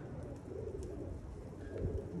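Pigeons coo softly and low during a pigeon flying session outdoors, a faint continuous murmur of calls against steady background noise.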